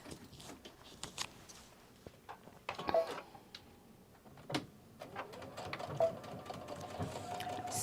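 A sewing machine stitching a ruffle bag with a 2.5 stitch length, giving quiet, close bursts of rapid needle ticking that stop and start, with small handling clicks between runs.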